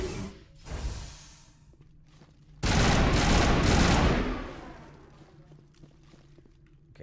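Video game weapon fire in Mass Effect Legendary Edition: a loud burst of sustained shooting lasting over a second, after scattered fainter shots, then fading into a quieter tail.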